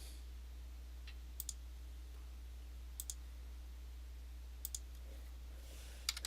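Computer keyboard keys tapped in short clustered pairs of clicks, quiet and spaced a second or two apart over a low steady hum, with no voices present.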